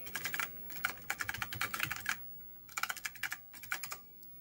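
Typing on a computer keyboard: bursts of quick, close key clicks separated by short pauses, all fairly quiet and with no voice.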